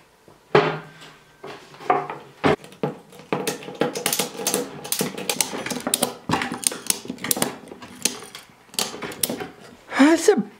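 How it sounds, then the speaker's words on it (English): A ratchet strap is cranked tight around a chick brooder, a series of close, clicking mechanical ratchet strokes and rattles in uneven bursts, with a voice speaking briefly at times. "I'm going to use one of our new ratchet straps to hold our chick brooder together."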